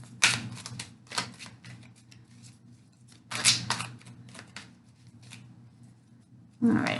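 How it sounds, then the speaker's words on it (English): Tarot cards being shuffled by hand, several quick riffling bursts separated by quieter pauses, with a last loud burst at the end, close and crisp with no talking. "one more shuffle"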